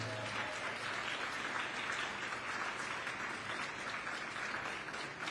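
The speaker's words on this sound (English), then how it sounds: "a personalized round of applause" Steady applause from a sizable crowd at a school graduation ceremony, continuous and even throughout, heard from within the room.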